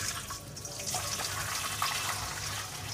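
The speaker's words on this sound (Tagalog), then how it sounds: "Gawin natin, babaran natin. Ng tubig na mainit." Hot water is poured over pad thai noodles to soak them, giving a continuous, close, splashing stream with a faint drip-like patter and no talking over it.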